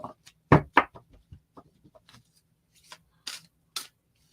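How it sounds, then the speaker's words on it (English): A deck of tarot cards being shuffled, giving a run of crisp riffling and tapping bursts, loudest early on and then in short spaced flicks, close and alone with no talk. "Let me do just a nice little cleansing shuffle from any readings I might have had the previous day."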